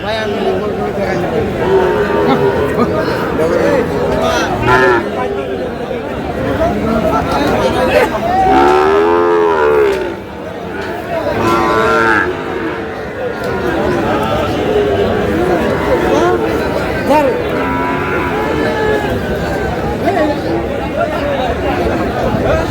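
Sahiwal bull calves low and moo amid the dense hubbub of a busy Noakhali cattle market, with one prominent close moo standing out over constant crowd chatter and people talking nearby.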